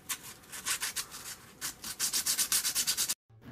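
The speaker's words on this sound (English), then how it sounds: "And here I just keep sanding." Rapid back-and-forth strokes of sandpaper rub against the small wooden lifeboat of a Mamoli 1:100 Lexington model ship, close and rhythmic, about a dozen scratchy passes that speed up before stopping abruptly.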